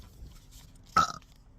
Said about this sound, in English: made me burp instead of cough